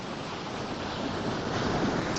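Sea waves on a Cornwall beach at sunset wash in as a steady, broad roar of surf that fills the whole stretch, with some wind buffeting the microphone and no talking.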